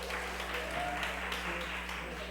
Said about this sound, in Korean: 한번 귀한 박수로 한번 맞이하도록 하겠습니다